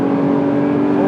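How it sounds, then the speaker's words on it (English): A 2008 Audi R8 engine pulls hard after downshifts, a loud, steady mechanical roar with a strong harmonic drone throughout, heard close from inside the car. "drop to 5th, drop to 4th, push on the gas, you need power"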